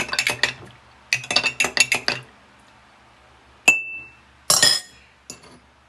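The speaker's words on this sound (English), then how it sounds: "Stir with spoon." A spoon stirring pineapple zobo juice in a cup, with rapid bursts of bright clinking against the sides, pauses between rounds, then a single ringing tap and a few final clinks.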